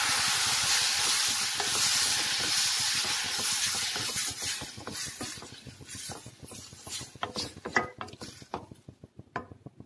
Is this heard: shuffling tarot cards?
no